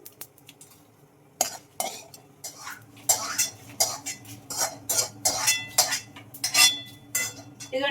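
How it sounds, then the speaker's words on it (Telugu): Tempering of fenugreek and mustard seeds scraped from a pan onto a plate, a run of close metallic scrapes and clinks of a spoon against cookware, irregular and fairly quiet. "ఈ పోపంతా అంతా ఇప్పుడు తీసేసి నేను ఈ ప్లేట్లో వేసేసుకుంటాను"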